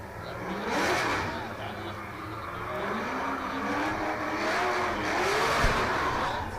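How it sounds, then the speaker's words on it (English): A battered V8-powered Nissan PS13 drift car revs and rumbles continuously while warming its tyres at an international drift championship, engine note rising and falling with faint tyre squeal and crowd-like background noise, no close talk. "the sound of a V8 rumbles in the tyre warming area, and the look of a battered and bruised Nissan PS13 warms up the tyres"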